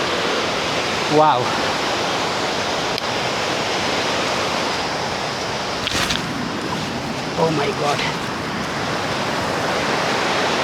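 A river flows just below a narrow forest path, giving a steady broadband rush of water throughout, with brief excited exclamations from a person partway through.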